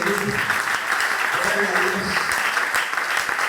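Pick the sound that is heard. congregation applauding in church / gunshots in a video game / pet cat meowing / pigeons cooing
congregation applauding in church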